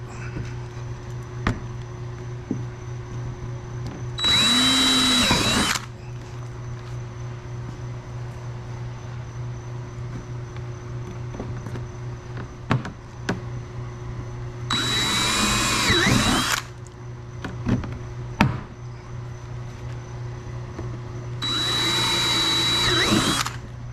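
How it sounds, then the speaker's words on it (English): A power drill whirs in three separate bursts of a second or two each, with quiet pauses, small clicks and a low hum between them. "and then drill it"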